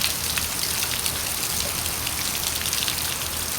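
Heavy rain pours steadily, a dense, constant hiss of drops drumming on surfaces with no pauses.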